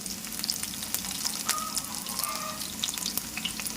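Dried red chilies fry in hot oil as a tempering for a Telugu amaranth leaf and moong dal dish, giving a continuous close sizzle and crackle with occasional pops and no talk.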